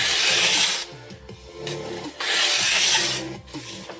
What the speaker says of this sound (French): Donc, comme ceci, mouvement de va-et-vient. On soulève la lime pour revenir.